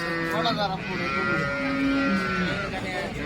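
A cow moos in long, low drawn-out calls at a cattle sale in Baramati, Pune district, with people talking close by over the lowing.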